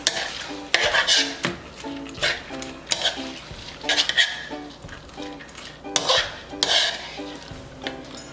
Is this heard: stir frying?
yes